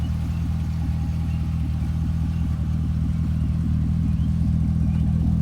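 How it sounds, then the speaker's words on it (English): A 2008 Chevrolet Corvette convertible's engine idles with a steady, loud, low rumble that holds even and continuous throughout, with no voices over it. "Good little rumble to the engine."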